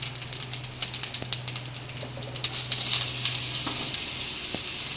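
Gobindobhog rice fries in ghee in a pan, a steady close sizzle with soft stirring scrapes and a low background hum, no talking.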